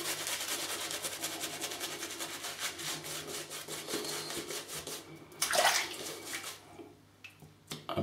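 Shaving brush tips dipped and swirled in a thirsty shaving soap, Merkur Progress razor on hand: close, continuous wet rubbing and swishing with a brief louder burst near the end.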